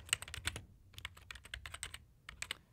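Rapid keystrokes on a computer keyboard as a short name is typed in, crisp close clicks in quick uneven bursts with short gaps, no voice.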